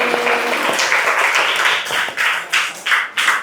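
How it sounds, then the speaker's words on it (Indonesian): Classroom applause from a group of students, a dense run of clapping that fills the clip and ends in a few sharper, separated bursts. "Tepuk tangan bagi kita hari ini."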